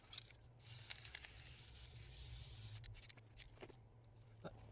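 A can of spray paint hisses in short and longer bursts as it paints through a paper letter stencil, with small rustles and taps of the stencil between sprays.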